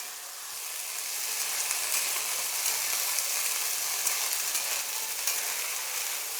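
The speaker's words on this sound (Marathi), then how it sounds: "हरभरा आणि शेंगदाणे भिजवलेले आहे ते टाकून घेऊया. ह्याच्यामध्ये भाजून घेऊया." Soaked chickpeas and peanuts roasting in a pan, a bright, steady sizzling hiss that swells slightly and holds, with small crackles scattered throughout.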